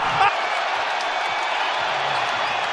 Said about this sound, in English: this sold-out crowd thundering its approval